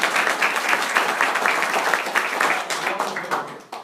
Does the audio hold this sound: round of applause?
yes